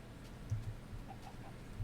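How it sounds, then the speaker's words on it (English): Chickens in the video game Minecraft, with a few short, faint low clucks over a steady background hum, no speech. "Chicken, you get away from my house."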